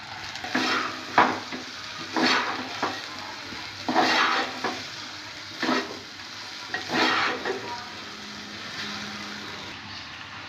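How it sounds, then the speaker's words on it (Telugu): Cluster bean pieces fry in a pan while a spoon stirs them, giving repeated bursts of scraping and sizzling at irregular intervals, close and fairly quiet, with no voices. "గోరుచిక్కుడు ముక్కలు వేసుకున్న తర్వాత మొత్తం కలిపేసుకోవాలి."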